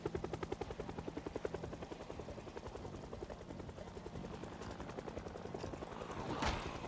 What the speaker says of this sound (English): Can I stop hearing an invisible, like, helicopter, please?